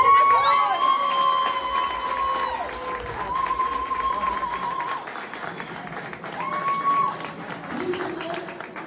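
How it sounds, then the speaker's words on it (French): A crowd at a political gathering applauds and cheers loudly, with shouted voices and whoops over steady clapping that stays strong throughout. "on l'applaudit"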